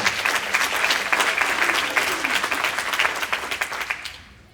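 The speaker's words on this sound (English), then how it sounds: "Let's give another round of applause to this list of people." Audience applause at a real estate sales meeting award presentation, a lively burst of many hands clapping with distinct individual claps standing out, steady for several seconds and then tapering off quickly into quiet.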